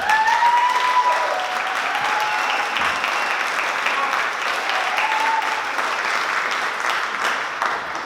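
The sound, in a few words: audience applause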